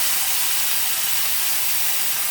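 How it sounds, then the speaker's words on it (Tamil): Ground masala paste for egg masala lands in hot oil with crackled cumin seeds, giving off a dense, even hiss of sizzling that holds steady throughout. "இப்போ நம்ம அரைச்சி வச்சுருக்க பேஸ்ட்டை போட்டுப்போம்"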